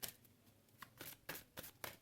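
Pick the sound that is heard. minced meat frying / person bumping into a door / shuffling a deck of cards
shuffling a deck of cards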